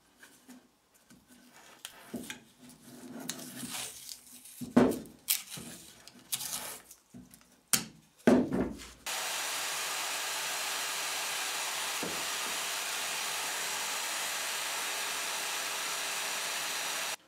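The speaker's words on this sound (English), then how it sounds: "I have to drill them myself." A power drill bores holes through metal drawer glides in a workshop, starting with a few seconds of scattered handling knocks before a steady, loud whirring drone runs without a break for about eight seconds.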